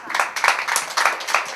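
Short burst of audience applause for a young volunteer at a youth theatre performance, with quick, even hand claps from a small crowd, close and lively.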